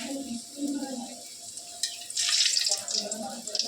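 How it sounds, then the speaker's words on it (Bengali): Luchi fries in hot oil in a pan, a bright hissing sizzle swelling up partway through and continuing under a low voice speaking nearby. "এখন লুচিটা আমি এক এক করে ভেজে নেবো"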